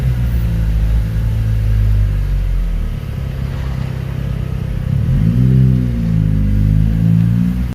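A car on a dyno during a power run, either a Nissan 350Z or a remapped Subaru with aftermarket exhaust, its engine droning loud and steady before rising pitch sweeps mark revs climbing and dropping, ending abruptly.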